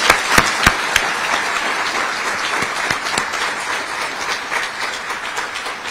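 Audience applause at a Holocaust remembrance event in Cranford, New Jersey: a dense, loud, sustained clapping from a crowd, steady throughout with a few sharper claps near the start.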